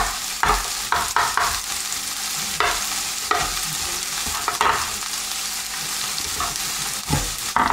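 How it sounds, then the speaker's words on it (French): Paris mushrooms sautéing in a hot pan, a steady sizzle broken by repeated scraping stirs and clatters of a utensil, close and fairly loud with no talking. "pour faire revenir les champignons qui cuisent assez vite"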